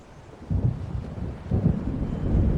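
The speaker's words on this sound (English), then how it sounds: "It seems there's a storm coming." In the Alan Wake Remastered video game, a thunderstorm gives off low rolling thunder in swelling waves over a steady bed of rain and wind, with no voices.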